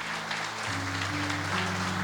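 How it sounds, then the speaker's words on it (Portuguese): Congregation claps together in a church service, a continuous wash of applause over sustained organ or keyboard chords that shift pitch partway through. "Aplauda ele."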